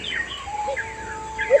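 Alimokon dove, a wild Philippine dove kept by bird hunters, gives faint, soft calls over steady background hiss, a couple of brief notes near the end.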